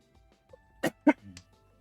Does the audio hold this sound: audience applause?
no